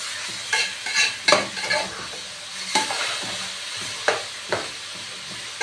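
Green beans with meat and onion fry in a pan, a soft steady sizzle broken by repeated scraping stirs of a spoon, some clustered close together and others spaced a second or more apart.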